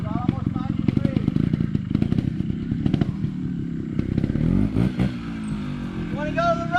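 A motorcycle engine revs and surges in repeated bursts while the rider holds a wheelie during riding training, with a coach talking over the engine noise throughout.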